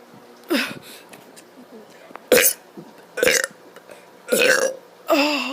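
A child lets out a series of four or five loud, drawn-out burps, each one separated by a short pause, while faint voices murmur in the gaps between them.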